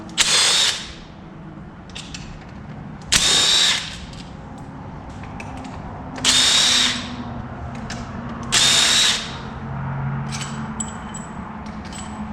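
A power tool removing the carburetor from a 1977 Pontiac Trans Am, running in four short loud bursts separated by pauses, with ratcheting clicks and faint mechanical clatter in between.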